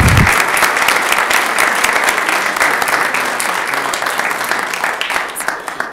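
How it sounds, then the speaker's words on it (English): An audience at a school board meeting applauds its honorees with loud, sustained clapping from start to finish. The clapping holds steady and fades only slightly toward the end. "let's give our honorees a round of applause"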